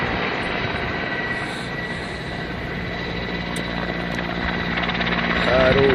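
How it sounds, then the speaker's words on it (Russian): A helicopter flying over the Mir diamond quarry, heard as a steady, loud engine and rotor drone that persists throughout and grows slightly louder toward the end, with faint voices in the background. "Хороший вертолет."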